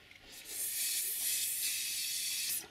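Extra-firm-hold hairspray is sprayed onto model railway scenery in a steady, close aerosol hiss lasting about two seconds, with no talking.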